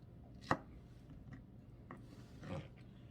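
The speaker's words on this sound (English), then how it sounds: "I'm going to turn and cut them into squares" A knife cuts fried peach pie dough into squares on a board: two sharp, close chopping strikes about two seconds apart, quiet and alone.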